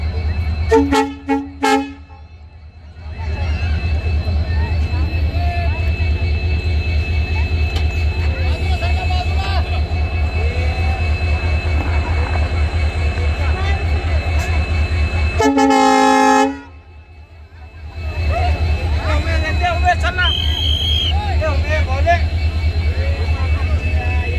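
A railway locomotive shunts past a level crossing during a Vighanwadi–Beed line inspection, sounding several short horn toots at the start and a longer blast midway over a continuous low engine rumble, with voices talking throughout.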